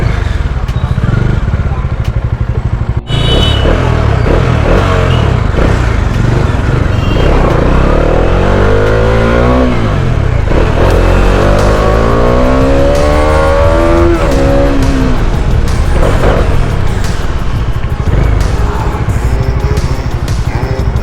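A Bajaj Dominar 400 motorcycle engine drones loudly while riding, its pitch rising and falling with throttle changes and a vibrating buzz running throughout, close to the rider with road and wind noise.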